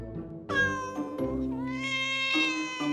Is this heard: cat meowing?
yes